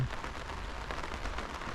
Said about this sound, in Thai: นี่คือ ฝนตกประมาณที่ปัดน้ำฝนเบอร์หนึ่ง